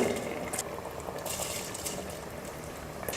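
Water bubbles at a steady boil in a pressure cooker, a close, soft, continuous gurgling with small pops.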